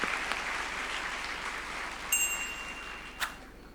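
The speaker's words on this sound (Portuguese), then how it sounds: "aplauda Jesus por isso" A church congregation applauds during a sermon, a continuous broad wash of clapping that stays steady throughout, with a couple of faint higher clinks near the end.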